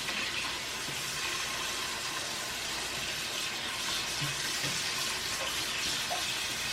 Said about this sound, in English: Just fill it out with water just until it covers up the sausage.